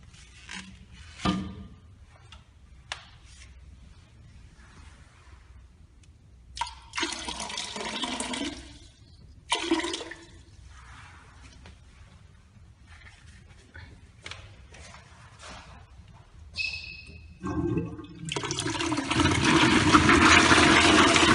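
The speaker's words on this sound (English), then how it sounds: "We put some brush solution into a toilet bowl and flush it with the toilet lid open." A toilet flushed with the lid open, starting with scattered clicks and handling noises, then a loud rushing swirl of water building near the end, with no talk.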